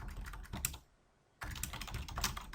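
Keys clatter on a computer keyboard as text is entered into an Excel spreadsheet, a close, quick run of taps that stops for a brief pause and then resumes in another rapid burst.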